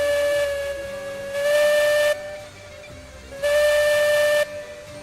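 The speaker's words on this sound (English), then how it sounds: "This is the whistle." Two long, loud blasts of a steam locomotive whistle, each a steady chime tone with hissing steam, separated by a short gap, heard in the Railroads Online game on the Mallet Road.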